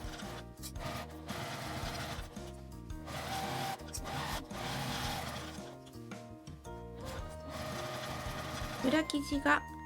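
A sewing machine stitches a fabric pouch, starting from the end of the turning opening, running in steady continuous bursts with brief pauses between runs and small handling rubs and clicks near the end.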